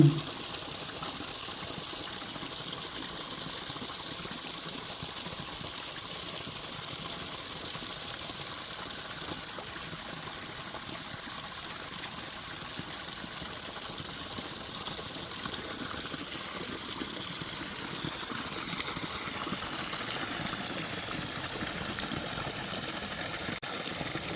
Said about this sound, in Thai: ฟังเสียงน้ำไหลไปนะ ธรรมชาติที่สวยงาม